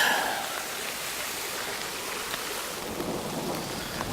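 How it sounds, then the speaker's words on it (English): Steady, heavy rain pours down on the Ozark Trail as a dense, even hiss, with a faint low rumble underneath; no voices. "So it's still raining."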